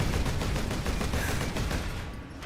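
Full-auto gunfire in Warhammer 40,000: Space Marine, a fast unbroken rattle of rapid shots that holds at steady loudness and then tails off at the end, with no voices.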